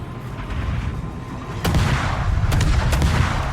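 Naval guns firing in a warship battle game, heard as a steady rumbling background with a heavy boom partway through and a few sharp cracks after, no talking.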